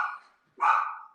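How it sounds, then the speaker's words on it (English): Two small dogs barking at a doorbell indoors, two loud, sharp yaps close by with a brief gap between them. "I have two little dogs that like to let us know when the doorbell rings"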